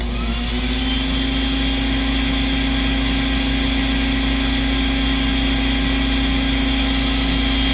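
Tristar CXL vacuum cleaner running on its low speed setting with no power nozzle attached: a loud, steady motor whine with a constant hum, unbroken and close by throughout.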